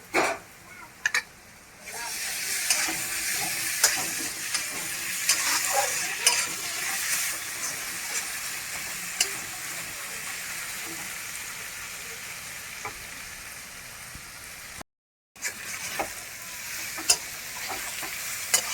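Garlic paste fries and sizzles in a pan while being stirred, a continuous close crackle with scraping stirs and one brief cut-out near the end.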